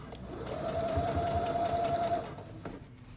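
A sewing machine fitted with a rolled hem foot stitches over a fabric seam in one short, fairly quiet run of rapid whirring with a faint motor whine, then stops.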